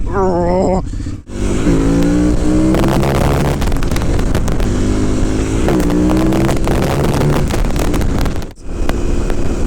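A KTM 990 Adventure S motorcycle rides and accelerates, its engine rising in pitch through several gear changes, loud and close under heavy wind rush.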